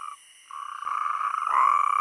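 Natterjack toads croak in a steady, rapid rattling trill, loud and close, with a short pause early before the calling swells into an overlapping chorus.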